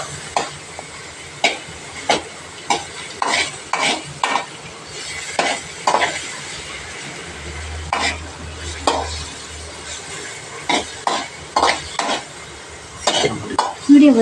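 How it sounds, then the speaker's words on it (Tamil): Ingredients for Maggi noodles being sautéed in a pan until browned: a steady soft sizzle with frequent scraping stirs of a utensil against the pan, close by, with a brief low hum partway through. "ப்ரௌனிஷ் ஆகிற வரைக்கும் வதக்கிக்கலாம்."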